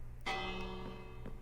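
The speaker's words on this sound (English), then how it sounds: "You can ring the bell if you want." A bell struck in the Minecraft video game rings out once, a bright metallic clang that decays over a second, followed by a fainter second strike near the end, set over a quiet low background.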